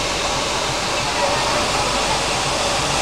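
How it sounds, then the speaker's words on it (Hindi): Cheeyappara waterfall beside a road in Kerala pours in a loud, steady broadband rush that fills the whole clip without a break. "ये अपने रोड पे आती है वाटरफॉल"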